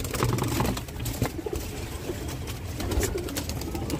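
A wild pigeon coos close by in low, repeated throaty calls with faint rustling and clicks between them.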